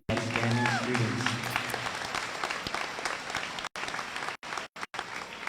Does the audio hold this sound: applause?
yes